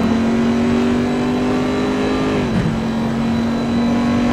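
Race car engine in a racing video game at Hockenheim, a loud continuous whine that holds steady, dips briefly at a shift, then pulls hard again accelerating out of the corner.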